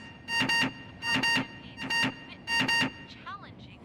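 An intercom buzzer sounds in four evenly spaced double bursts of harsh, tonal buzzing, fairly loud and close, with a brief warbling electronic chirp at the end.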